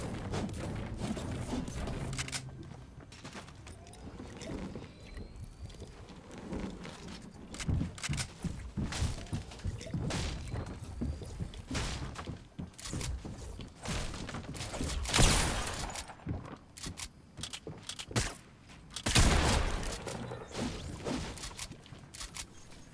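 AK rifle fire in a video game comes as irregular bursts of sharp shots and booms with some scattered footstep-like thuds. It grows louder in the second half, with two heavy blasts standing out.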